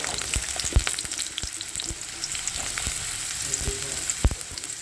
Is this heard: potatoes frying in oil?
yes